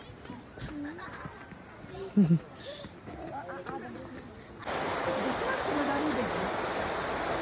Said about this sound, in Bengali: ওই যে যাচ্ছে নদী।